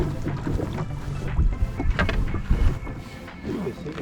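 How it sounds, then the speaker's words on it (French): Strong wind gusts buffet the microphone on a lake during pike fishing from a boat, with rough, fluctuating rumble and water sloshing against the hull, close and fairly loud. "le vent se lève sévèrement"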